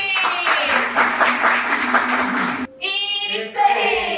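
An audience at a theater performance about early-age marriage claps steadily for about two and a half seconds under tonal voices. Then the clapping drops out and voices continue alone.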